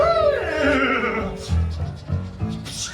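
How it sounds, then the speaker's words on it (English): A horse whinnies loudly in a Disneyland show, its neigh falling in pitch, followed by a few shorter snorts and sounds in a staged theatrical setting. "That's Maximus, a horse of the royal guard."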